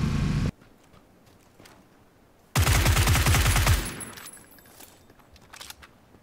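A burst of rapid gunfire from a shooter in PUBG, loud and close for about a second, with a heavier thump at the very start and quieter gunshots trailing off after.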